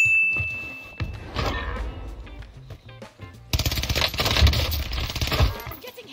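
Gunfire in Call of Duty Warzone, bursts of shots crackling through a dense, busy game mix, with a sharp rise in intensity midway through.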